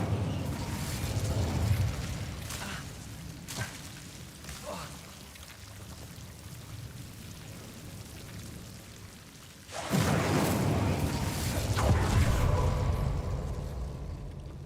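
An Incendio fire spell cast in Hogwarts Legacy produces a crackling, roaring burst of flame that swells loudly near the end, over a continuous rumbling game soundscape.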